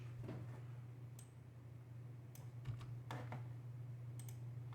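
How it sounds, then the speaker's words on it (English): Quiet typing on a computer keyboard during a Linux command-line lesson: scattered soft key clicks in small clusters over a steady low electrical hum, close and faint, with no talk. "then I'm going to type"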